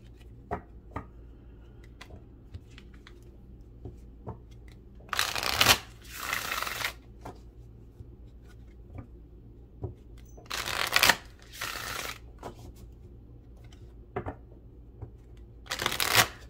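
Tarot cards shuffled in three distinct bursts, each about a second long and close up, separated by quieter stretches with faint scattered ticks and handling noises.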